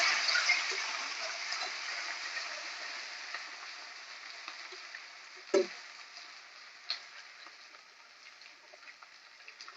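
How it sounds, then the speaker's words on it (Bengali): Chopped tomato and onion fry together in a pan with a soft, fading sizzle, broken by a couple of sharp knocks from stirring about midway, fairly quiet and close. "দিয়ে এবার একটু ভালো করে নাড়াচাড়া করবো।"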